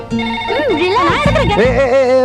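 Telephone ringtone rings in a home during a Tamil comedy film scene, a steady electronic melody with layered tones that carries on for a couple of seconds while voices overlap it.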